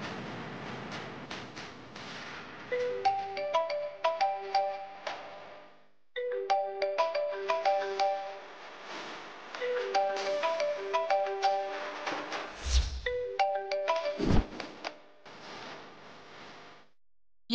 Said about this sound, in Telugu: ఇందాకటి నుంచి ఆ ఫోన్ రింగ్ అవుతూనే ఉంది